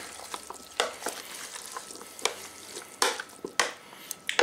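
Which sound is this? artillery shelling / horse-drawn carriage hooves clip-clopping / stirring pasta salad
stirring pasta salad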